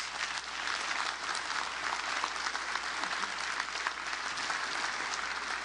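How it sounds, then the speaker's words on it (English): An audience applauds Tim McGrew after his talk at a conference, a full, steady round of clapping with no voices above it, holding at an even level throughout. "Let's give Tim a round of applause."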